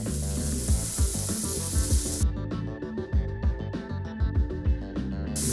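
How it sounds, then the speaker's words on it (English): Onions dropped into hot oil sizzle with a bright, hissing crackle that drops away abruptly partway through, followed by softer popping and clattering. "So now we're gonna dump our onions in. Hear that nice sizzle."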